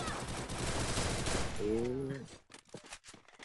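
Dense automatic gunfire in the video game Free Fire rattles loudly and continuously for a couple of seconds, then breaks into scattered shots as a voice chimes in briefly near the end.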